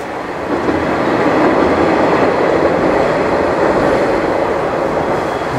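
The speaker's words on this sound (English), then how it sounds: "I'm just going to show you the train as she crosses the bridge." A train rolls across a bridge in a steady, loud rumble, its rail noise holding constant and close throughout with no voices.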